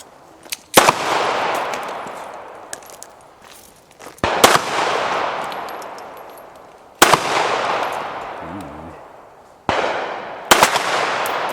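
Four loud, sharp Spanish Ruby .32 pistol shots ring out at an outdoor shooting range, spaced a few seconds apart, each fading slowly into a long echoing tail.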